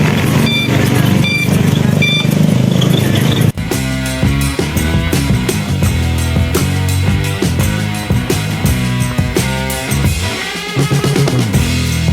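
A HarMony HF001 four-wheeled electric bike backs into a garage, its reversing alarm giving a steady run of short, evenly spaced beeps for a few seconds before dense voices and other loud sound take over.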